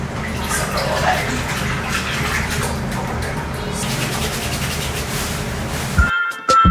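A sink fills with running water from a tap, a steady broadband rush that stays loud and close throughout before cutting off near the end, with a faint clink afterward.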